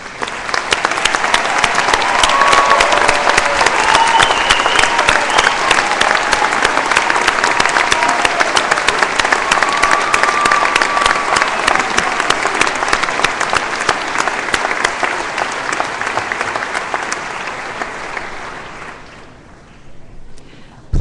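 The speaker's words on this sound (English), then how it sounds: "ladies and gentlemen, join me in applauding these outstanding students" A large commencement audience applauds honors graduates with sustained, dense clapping that fills the hall for nearly twenty seconds before tapering off.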